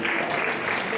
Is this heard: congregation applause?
yes